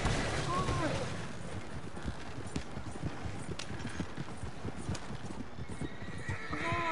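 Horses whinny with rising calls near the start and end, over a steady rumble of hooves and movement; a voice is faintly present beneath.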